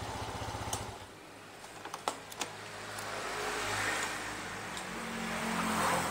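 A 2021 Honda Scoopy scooter engine idles close by with a steady low rumble, a few sharp clicks sound, then the idle fades into a smoother, quieter hum.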